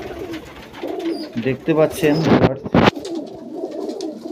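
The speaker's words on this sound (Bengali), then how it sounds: "উস্তাদ দাসু আঙ্কেলের বাড়ির যে পায়রা আপনাদেরকে শখ করাচ্ছি।" Pigeons kept at Ustad Dasu's house, including male birds with white head markings, coo in soft, repeated bursts close by while someone talks over them.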